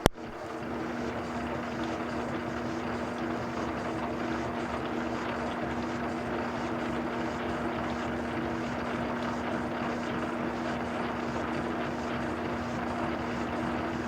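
A Harley magneto spins on a test stand as it is cranked up to about 200 rpm, giving a steady, continuous mechanical whir and drone with a constant tone and no breaks.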